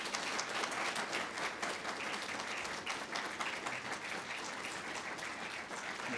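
Steady applause from a symposium audience fills the room, dense clapping from many hands continuing without a break.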